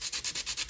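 Coarse 100 grit sandpaper scrubs a rusty weight from an N scale boxcar in quick back-and-forth strokes, about eight close, even rasps.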